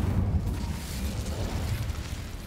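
An Incendio fire spell cast in the Hogwarts Legacy video game bursts out as a dense, roaring low rumble, a steady whooshing blaze that holds loud and close for the whole moment without any talk over it.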